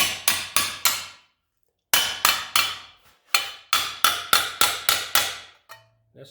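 A hammer strikes freshly made spot welds on metal to test them, with about a dozen sharp, ringing blows falling in quick bursts of three to five separated by short pauses.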